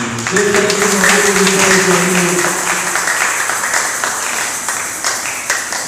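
Church congregation applauding and cheering God during a worship service, loud sustained clapping from a full room with raised voices mixed in, steady throughout.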